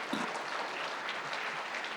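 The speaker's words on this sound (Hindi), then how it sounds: "बहुत जोरदार तालियां।" An audience at a live event claps together in a soft, continuous wash of applause, heard from a distance at low volume without a break.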